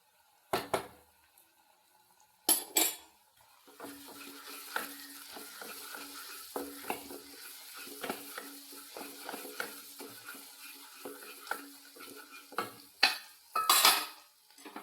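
Tomato paste sizzles and is stirred in a pan for a wheat flour breakfast dish, a soft steady frying hiss with scattered spoon scrapes and a few louder clatters at the start and end.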